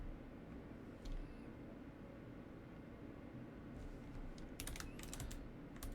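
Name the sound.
typing commands on a computer keyboard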